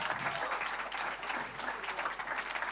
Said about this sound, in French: ça s'applaudit encore bien fort